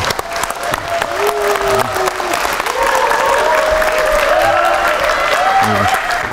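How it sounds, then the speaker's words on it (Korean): Sustained audience applause fills a hall at a lecture event welcoming a guest speaker, loud and steady throughout, with a few faint tonal sounds drifting over the clapping. "우리 윤홍식 대표님을 뜨거운 박수로 맞이해 주시기 바랍니다."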